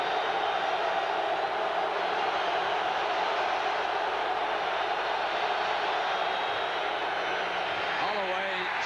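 Loud, roaring football stadium crowd at a 1986 Oklahoma versus Miami college game, a dense continuous wall of noise throughout, with a commentator's voice briefly over it near the end.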